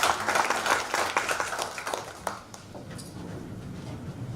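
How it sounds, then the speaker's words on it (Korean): A crowd at a party vision meeting and award ceremony claps for an award winner, a lively burst of applause that fades to a quieter patter after a couple of seconds. "수상하신 이상민님께 다시 한번 큰 박수 부탁드리겠습니다"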